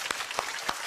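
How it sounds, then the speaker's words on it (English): Studio audience at a children's TV show applauding and cheering, a steady wash of clapping with a few louder bursts throughout, no voices on top. "Give yourselves a huge cheer."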